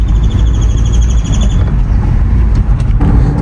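Volkswagen GTI pulling away from a driveway, a steady loud engine and road rumble filling the low end throughout, with faint bird chirps over it and a brief rise near the end.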